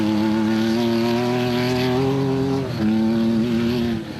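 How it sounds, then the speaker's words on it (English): Rally race cars in the Carnival City 400 of 2006, their engines straining at high revs as the wheels spin on slippery ground, a loud sustained droning roar with a brief dip before it climbs again. "Engines were hard pressed, what with all this wheel spinning going on."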